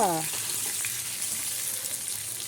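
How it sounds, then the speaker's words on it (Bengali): Potatoes fry in a pan with a continuous soft sizzle close by, a brief tonal sweep at the very start, and no speech over the frying. "এই যে আলু ভাজছি"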